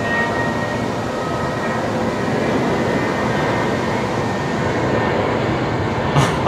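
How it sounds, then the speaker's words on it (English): A Jetstar airliner on the 573 service to Mackay rolls for takeoff at Brisbane Airport at night, a steady broadband engine roar that holds loud and unbroken throughout. "Next departure rolling. It's the Jetstar 573 service going to Mackay."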